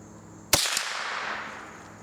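Single sharp gunshot from a .22 rimfire firing a CCI Mini Mag high velocity hollow point, a crisp crack followed by a brief outdoor echo and fading tail.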